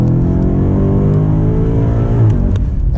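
A BMW M5 Competition LCI pulls hard under acceleration, its engine note a loud, steady, close drone with rising harmonics, heard from inside the cabin with no talking.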